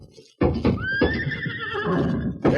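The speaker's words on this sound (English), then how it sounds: "There's your horse tied up in that stall." A horse in a stable lets out a loud, close whinny that rises and trails off, with a few thuds before and after, in an old radio drama.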